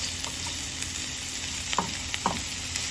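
Onions frying in olive oil in a pan, a close, steady hissing sizzle broken by a few soft taps and stirring clicks.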